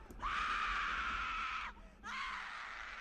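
A sustained, high-pitched scream from a horror video game rings out loudly for over a second, breaks briefly, then resumes.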